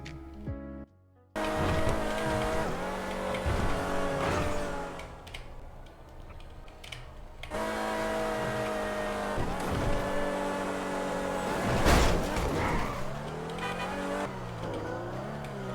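A car driving in GTA V on a FiveM server, its engine revving and shifting through gears loudly and steadily, with tire noise and a few sharp bursts along the way.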